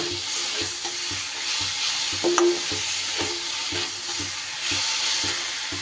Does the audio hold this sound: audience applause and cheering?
no